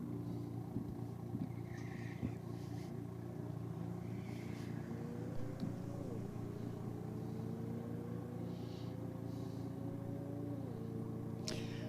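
A BMW and a Volkswagen Golf race at a motorsport event, heard as faint distant engine whine and a steady low rumble, with rising and falling pitch as the cars accelerate and shift, under quiet crowd ambience.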